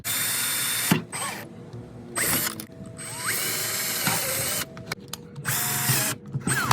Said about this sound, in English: I'm gonna drill into these and pray that no gas spills out.